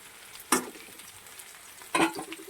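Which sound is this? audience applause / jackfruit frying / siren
jackfruit frying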